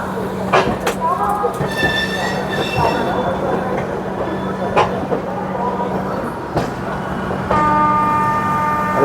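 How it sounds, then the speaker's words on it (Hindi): Gorakhpur–Yesvantpur train passing on nearby tracks, heard from aboard another moving train, with a steady rumble, occasional sharp clanks and tonal wheel squeal or horn-like tones rising near the end; voices are faintly present. "अरे बढ़िया सा ट्रेन घूमती हुई वो जा रही है सामने गोरखपुर यशवंतपुर"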